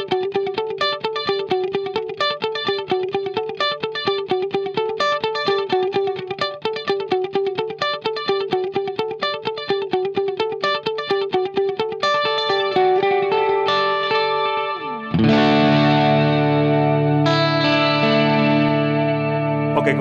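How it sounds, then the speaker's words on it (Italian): Guitar played through a Universal Audio delay pedal on its Precision mode, a clean digital delay setting, giving crisp, exact repeats behind chords and notes; a sustained wash of echoing tones fills the second half, loud and with no voices. "seleziono il precision mod, che va invece a simulare un delay digitale"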